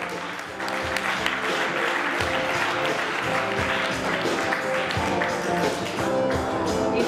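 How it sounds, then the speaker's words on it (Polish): Audience at the Miss Polonia USA 2016 pageant applauding a contestant, a sustained burst of dense clapping from a crowd that swells after a brief quieter start and carries on steadily. "Duże brawa dla niej."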